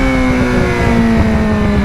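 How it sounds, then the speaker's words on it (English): Motorcycle engine droning steadily and loud throughout, with a slight pitch change partway through suggesting a gear shift, and no voices. "Oh, the bike shifts are so crispy"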